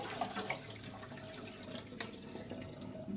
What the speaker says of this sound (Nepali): तातो पानी पनि फेरि सुरुमा चलाउँदा चिसै आउँछ